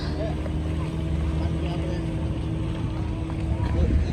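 A motorboat running on a canal, its engine a steady close hum with a low throbbing drone and some wind noise, constant from start to finish.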